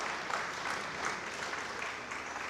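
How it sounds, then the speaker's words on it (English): Audience applause fills a hall at an awards ceremony and business summit, a steady dense wash of clapping at moderate level with no pauses and no talk. "I think we all deserve a round of applause."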